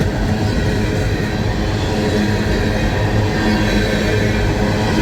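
A CSX coal train hauled by GE locomotives rolls out of Sykesville Tunnel with a loud, steady rumble and rolling wheel noise, continuous and close, with no voices.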